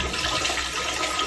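Pasta and its cooking water poured straight into a toilet make a loud, steady rush of water, like a flush, lasting just over a second with no voices.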